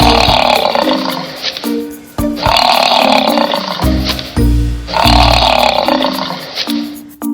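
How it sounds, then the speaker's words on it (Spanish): A buffalo makes three long, deep, rasping bellows, each loud and close, separated by brief pauses. "Búfalo."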